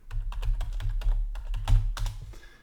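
Rapid, close typing on a computer keyboard, a dense run of crisp key clicks with short pauses between bursts, heard alone without talk.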